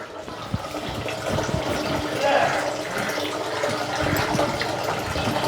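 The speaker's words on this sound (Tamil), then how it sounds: "இந்த வர தண்ணி அவ்வளோ ஸ்பீடாக வரும்" Water gushes fast from a motor-pumped pipe at a new home, a steady hissing, splashing flow heard up close with a person talking over it.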